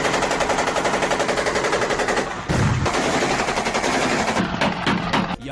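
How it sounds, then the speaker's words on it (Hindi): Ukrainian soldiers fire on Russian troops on a battlefield in the Russia-Ukraine war, with loud, rapid automatic gunfire rattling without pause throughout and a few heavier bursts near the end. "यहां रूसी सैनिकों पर यूक्रेनी सैनिक जमकर गोलियां बरसाते दिखाई दे रहे।"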